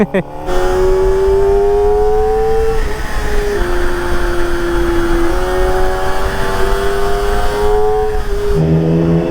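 A Kawasaki ZX-4RR sport motorcycle's loud exhaust drones steadily at close range with rising and falling revs, its harmonic engine note running almost continuously through the clip; a voice is faintly audible in the background.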